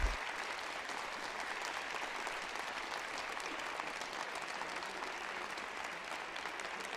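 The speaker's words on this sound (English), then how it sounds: "Give them a big round of applause" Graduating seniors receive a steady wash of applause from an audience at a spring collegiate band showcase, sustained clapping from a full room heard at a distance.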